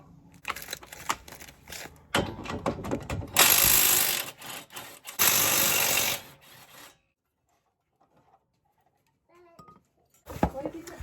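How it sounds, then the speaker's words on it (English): Ratchet clicking rapidly in bursts while undoing the caliper bracket bolts on a Mazda 2 brake assembly, loud and close, then a pause with faint handling noises and a final burst. "And then we're going to undo the caliper bracket."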